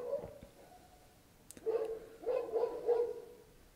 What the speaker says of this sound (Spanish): ¿Puedes dejar de ladrar, por favor?